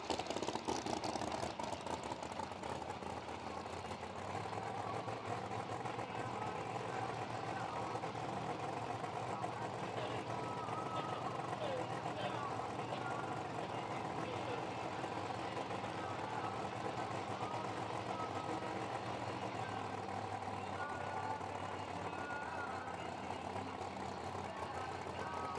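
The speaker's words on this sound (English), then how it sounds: "Chandler's car backing up here into the hot rubber" A drag racing car idles with a steady low rumble as it backs up into the hot rubber after a burnout at a US Street Nationals night event at Bradenton Motorsports Park, loud and continuous with no talk over it.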